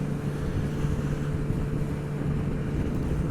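Kawasaki Z900 RS motorcycle engine while riding, a steady low hum with wind rush, fairly quiet and continuous, no talking.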